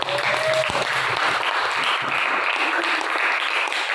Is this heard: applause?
yes